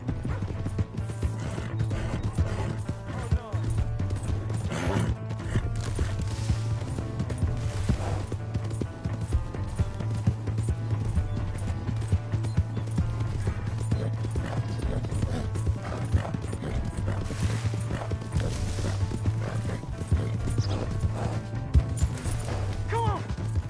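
A horse's hooves clip-clop steadily in the Red Dead Redemption 2 video game, a continuous rhythmic trotting close by, with occasional whinnies and game ambience.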